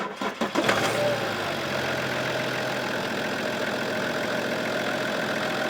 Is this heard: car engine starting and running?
yes